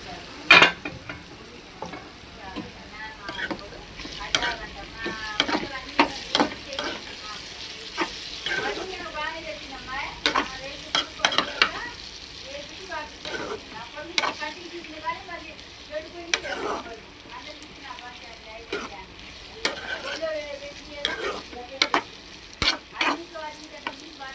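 Bitter gourd and egg curry frying with salt in a pan, stirred now and then: a steady close sizzle broken by repeated sharp scrapes and clacks of the spoon, with no talk.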